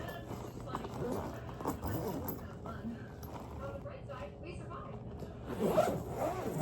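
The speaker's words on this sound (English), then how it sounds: "I'm just going to zipper these up." Backpack zippers are zipped shut in a few quick, close rasping pulls, with a person talking softly over and between them.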